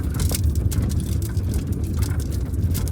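A manual car creeps along at low speed in second gear, its engine a steady low hum with road rumble, even and continuous with no shifts or jerks.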